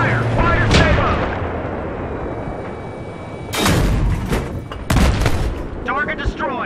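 Tank cannon fire in the Battlefield 3 Thunder Run mission, loud booming blasts landing in two heavy bursts over a constant rumble of battle, with a voice shouting orders.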